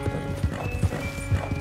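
Horse hooves gallop in Red Dead Redemption 2, a steady run of heavy, evenly spaced thuds close by, with faint tonal game ambience underneath.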